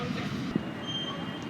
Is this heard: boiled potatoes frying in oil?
no